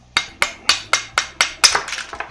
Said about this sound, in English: I'm trying to break this a little bit with my hammer